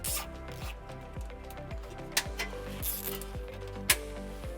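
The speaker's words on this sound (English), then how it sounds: "we'll use some zip ties to secure our wire underneath" Zip ties are ratcheted tight around trailer wiring under a 2017 Toyota RAV4, a series of quick, close zipping rasps repeating in a steady rhythm, with a couple of sharp clicks and a faint steady hum behind.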